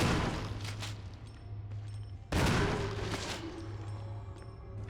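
Gunshots fired at zombies in Resident Evil HD, two heavy booming shots with long echoing tails over a low steady game hum, moderately loud.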